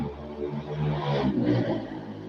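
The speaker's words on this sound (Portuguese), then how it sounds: "Barulho de moto passando aqui." A motorcycle passes by outside, its engine rising and falling in a brief swell at moderate distance.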